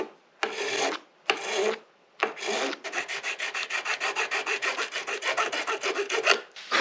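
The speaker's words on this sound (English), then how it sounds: "So now I'm going to take a pretty coarse file." A coarse file rasps across a bone guitar nut in a luthier's repair, first in a few separated long strokes, then in a quick rhythmic run of short back-and-forth strokes, close and clear with no voices.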